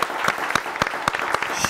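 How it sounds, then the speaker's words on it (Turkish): Studio audience applauding on a TV word game show, dense, even clapping with a few sharper claps standing out, close and continuous throughout. "Alkışlayalım bir ailemizi."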